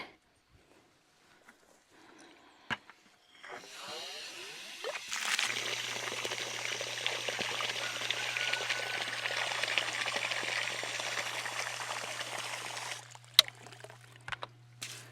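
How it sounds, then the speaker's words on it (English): Fresh creek water rushes into a bucket for about eight seconds, a loud steady pour that starts and cuts off abruptly, with a few handling knocks before and after. "But we're gonna go ahead and fill the bucket."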